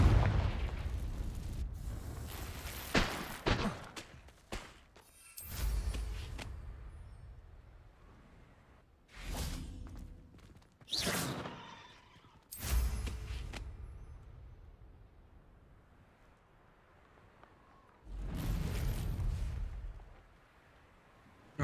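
Repeated booming spell blasts and crackling bursts from combat in the Hogwarts Legacy video game, several loud impacts spread across the stretch with quieter rumbling gaps between them and no talking.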